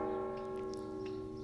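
A church bell associated with Saint Rita of Cascia rings with a sustained, humming metallic tone, steady and fairly faint, with no voices over it.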